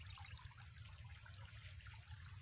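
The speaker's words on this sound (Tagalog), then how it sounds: "galing sa ilog itong tubig nito" River water runs steadily into a corn field for irrigation, a continuous close rushing and trickling with no voices.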